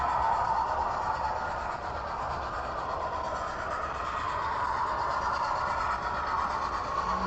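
A model train runs steadily around a loft layout, producing a continuous low rumbling whir at moderate volume with no clear breaks.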